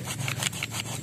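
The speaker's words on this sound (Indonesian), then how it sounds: "apabila kita potong menggunakan gergaji yang agak tajam" A hand saw cuts through a fairly soft hibiscus stem in a quick series of rasping back-and-forth strokes, close and fairly quiet.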